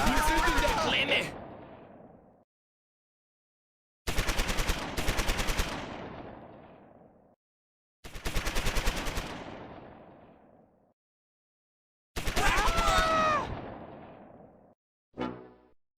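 Machine guns fire in the World War II video game Close Combat 4, four long, rapid bursts separated by short silences, each ringing out and decaying. German voices shout during some bursts, and a short final burst closes it.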